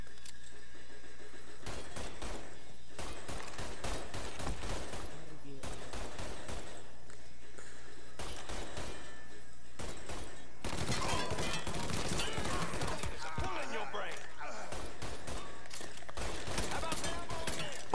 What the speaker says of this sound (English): So we're cooking with the Tommy gun now